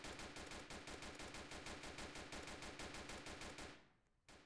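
Rapid automatic M4 rifle fire in a video game, a dense, sustained burst of evenly spaced loud shots that keeps going for several seconds before abruptly cutting off near the end.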